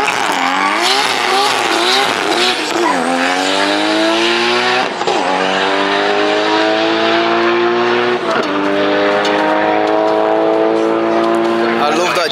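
A GTR race car roars at full throttle on a racing circuit, its loud engine note sweeping up through repeated gear changes, with a brief lift around mid-run and a commentator's voice running over the top.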